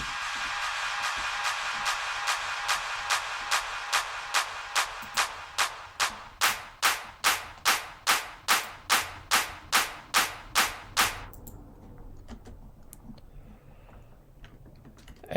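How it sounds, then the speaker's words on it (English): Clap samples in a bass music track strike in a steady rhythm, about twenty sharp hits that grow louder before stopping abruptly, leaving a faint low hum. "there's a clap, and then we bring in another clap"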